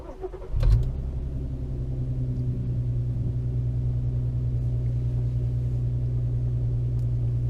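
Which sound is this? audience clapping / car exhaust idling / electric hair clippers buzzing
car exhaust idling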